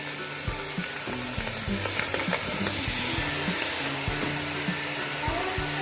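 Grated carrots frying in a pan for milky gajar dish, a loud continuous sizzle with scraping stirring strokes and a steady hum underneath, close and without talk.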